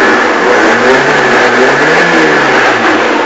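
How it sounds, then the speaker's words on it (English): A Saab 900 Turbo engine, run hot, revs hard under full throttle with a loud, sustained roar that holds steady close by, with no voices. "get the engine running hot, and then boot the throttle as hard as you can"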